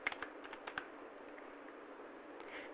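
Typing on a computer keyboard, a few crisp key clicks at the start and then faint, quick tapping under steady room hiss.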